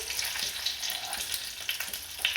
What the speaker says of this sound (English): You gotta sear the meat, all sides.